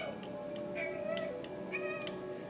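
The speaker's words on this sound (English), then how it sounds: "So there, I can meow." A cat meowing in a video game, two short high meows heard faintly over a soft steady background tone.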